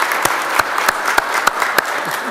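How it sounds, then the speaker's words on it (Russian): A hall of state council deputies gives continuous applause, dense and even throughout, with several sharp individual claps standing out in a steady rhythm. "Бурные продолжительные аплодисменты."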